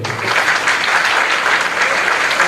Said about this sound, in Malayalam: നിങ്ങൾ തരുന്ന ഈ കയ്യടികൾ തന്നെയാണ് ഒരു കലാകാരനെ മുന്നോട്ട് നയിക്കാൻ പ്രേരിപ്പിക്കുന്ന ഘടകമെന്ന്